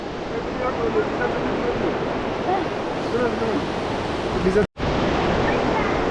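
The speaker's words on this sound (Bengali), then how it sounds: "ওপর থেকে জল পড়ে যাচ্ছে, টপ টপ করে ভিজছি, ঠান্ডা।" Cold water falling and dripping in a canyon at Grindelwald in the Swiss Alps, a steady broadband rush of water that stays constant throughout, with one brief dropout near the end.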